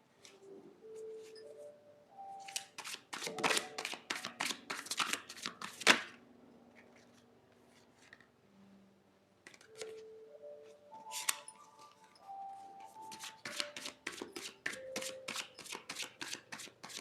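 Tarot cards being shuffled by hand in bursts of quick riffling flutters, crisp and close, separated by short pauses with a few faint tonal sounds in the background.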